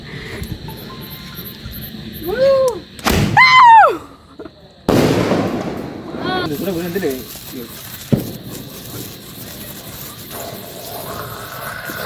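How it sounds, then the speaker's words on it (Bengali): Firecrackers set off by friends on Eid day: a few sharp broadband bangs and crackling bursts spread through the stretch, mixed with excited voices and shouts nearby. "আমার ফ্রেন্ডরা চলে এলো আমার সাথে বাজি ফাটানোর জন্য"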